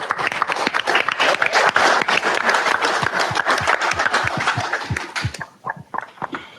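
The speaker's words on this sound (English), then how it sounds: "we'd give you a round of applause" Applause from an audience at a live drivers' meeting greets new drivers as they stand, a dense steady roar of clapping that thins into a few scattered claps near the end.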